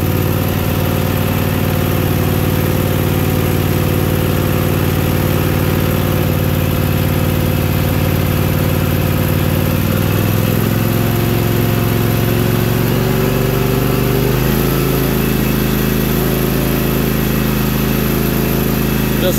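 A Kawasaki V-twin engine with a stuck choke runs continuously after a choked start. It holds a loud, steady, close idle, and its pitch shifts partway through as the engine settles into a lower running note.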